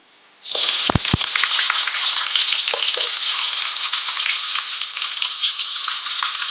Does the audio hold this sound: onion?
yes